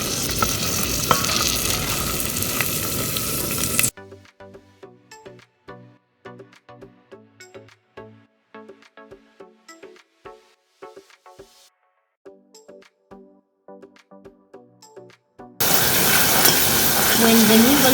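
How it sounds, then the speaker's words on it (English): Soya chunks frying in a pan as they are stirred, steady sizzling broken by scraping and clinking of the utensil in the middle stretch, with louder continuous sizzle at the start and end. "Keep stirring in evenly until they are ready. They will turn brownish"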